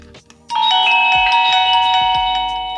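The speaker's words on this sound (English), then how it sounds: "Press the doorbell." A loud two-tone electronic smart doorbell chime rings once and holds, its sustained tones slowly fading, after a few faint clicks.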